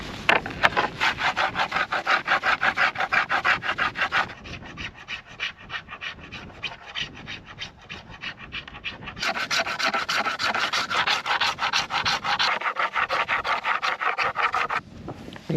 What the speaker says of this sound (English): So I'm going to have to go old school and just use a rock and just scrape the paint off.